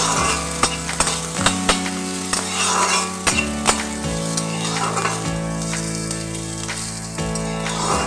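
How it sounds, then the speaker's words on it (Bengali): Peanuts fry in a pan for a light roast, giving steady close sizzling and stirring with occasional clinks of a utensil, and loud music plays over it throughout. "বাদাম চীনা বাদাম সমস্তগুলো খুব হালকা লাল করে আমি ভেজে নেব"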